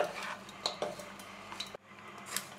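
Vegetable fried rice being mixed in a pan, with a spoon scraping and clinking against the metal in quick uneven strokes, close and fairly quiet.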